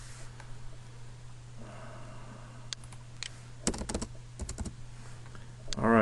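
Computer keyboard keys click in short bursts while code is written for a programming exercise, with quiet scattered taps over a faint steady hum.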